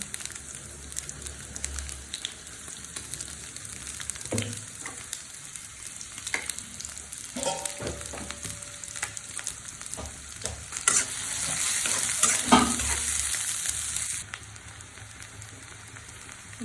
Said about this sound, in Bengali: আমি একটু সামান্য পেঁয়াজ কুচি দিয়ে দিচ্ছি, আমি পেঁয়াজ বাটাটাও দিব